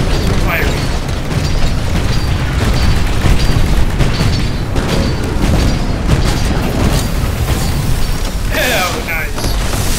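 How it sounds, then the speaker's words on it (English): In the Titanfall video game, a self-destruct explosion rumbles with heavy booms and mechanical clatter, loud and continuous across the clip, with game voices and chatter over it. "Warning. All units executing self-destruct."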